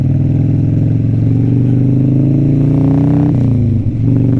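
An old, rough Harley-Davidson Sportster being ridden, its engine giving a loud close rumble that holds steady, rises slightly in pitch as it revs, then drops briefly at a gear change before picking up again, with no voices.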